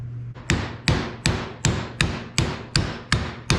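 Eight sharp, evenly spaced hammer blows strike a bearing race driver, seating a race into a tractor wheel hub; loud metallic impacts ring out alone in a steady rhythm.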